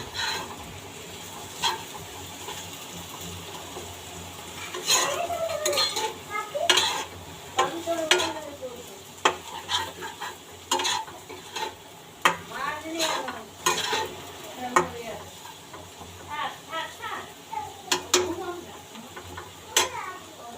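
Food sizzles steadily in a pan while a spoon scrapes and clinks against it in irregular stirring strokes, with a voice speaking nearby.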